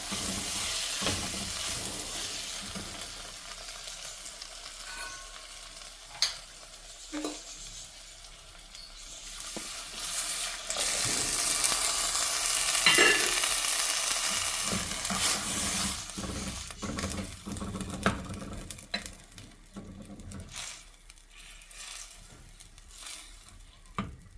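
A fish curry base of turmeric masala sizzles and fries in a pan, with stirring scrapes, until water is poured in and a louder hissing burst rises, then settles back to steady bubbling and sizzle, close and with no talk.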